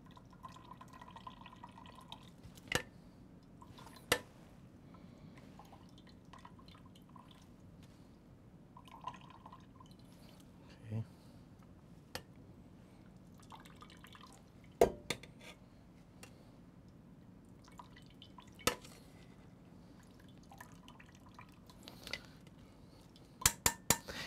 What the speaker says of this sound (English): I'm going to squeeze as much liquid as possible.